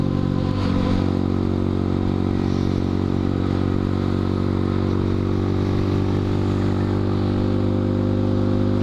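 Steady motorcycle engine droning at cruising speed, loud and close throughout, with a constant low rumble and some faint rattling clatter over it.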